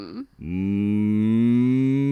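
A person imitates a cow with one long, loud, drawn-out moo that follows a brief vocal onset, voiced close and sustained to the end.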